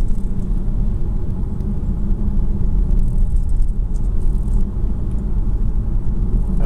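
A Kia Stinger drives on a mountain course in auto mode, its engine and road noise forming a loud, steady low rumble heard from inside the car.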